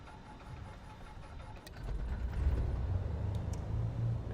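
Right engine of a Cessna C310R twin being started in a flight simulator: a low rumbling crank that swells into a steadier, louder engine drone after about a second and a half, continuing alone.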